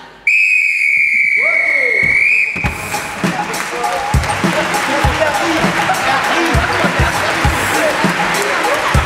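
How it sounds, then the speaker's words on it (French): A referee's whistle at a professional improvisation match in Le Pouzin gives one long, shrill blast, loud and close. Applause and crowd noise then swell and carry on steadily beneath it. "une faute de décrochage a été sifflée au joueur numéro 4 de l'équipe de Lyon, Gilles Barthélémy."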